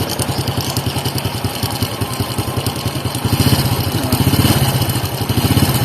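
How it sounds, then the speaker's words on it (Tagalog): A motorcycle engine idles steadily with a fast metallic ticking rattle from its timing chain running through it, growing a little louder partway through. "Dinig na dinig naman yung kadenang maliit, yung timing chain."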